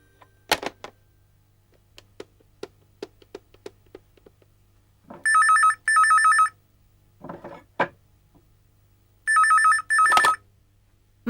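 Landline telephone bell in a Tamil TV serial scene, ringing in two double bursts after scattered clicks and small handling knocks, loud and close in a quiet room.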